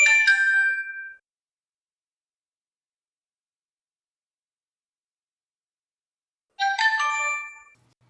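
A DJI Osmo Action camera plays its operation chimes, such as the power-on tone: a short bright melodic jingle, then a long silence, then a second similar jingle, clear and close.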